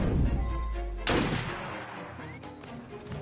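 Gunfire in the video game Assassin's Creed: Syndicate: a sharp loud shot cracks, then a second, fainter burst follows against a steady rumbling game background.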